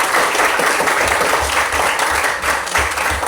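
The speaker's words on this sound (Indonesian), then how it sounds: "Sekali lagi berikan aplaus kepada kelompok ketiga." A classroom of students applauds a student discussion group after its presentation, steady dense clapping from many hands filling the room for a few seconds without pause.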